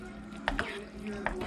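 Rotel dip mixture being stirred, with a few brief wet squelching scrapes under a steady background hum.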